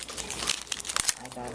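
Plastic wrapper of an opened D&D Dice Masters booster pack crinkling and crackling in several quick, close, irregular bursts.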